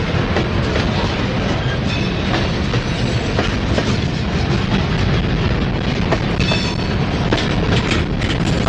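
A Norfolk Southern freight train rolls steadily past at close range, loud and continuous, with wheels clacking over rail joints and a few faint squeals, and no voices.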